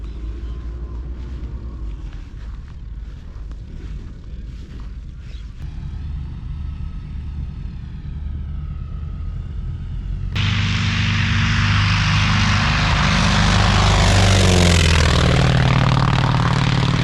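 Large propeller-driven vintage warplane engine at an air show, a loud continuous drone that swells louder and heavier partway through as the machine passes close by.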